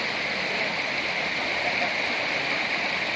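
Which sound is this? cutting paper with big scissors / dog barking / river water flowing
river water flowing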